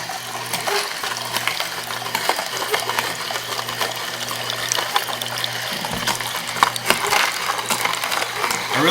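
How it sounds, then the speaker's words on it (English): An Omega VRT330 vertical juicer grinds heirloom maroon carrots one at a time, giving a steady low motor hum with continuous crunching, grinding and wet trickling throughout, close and fairly loud. "I'm dropping only one carrot in at a time, letting the Omega Vert literally feed itself."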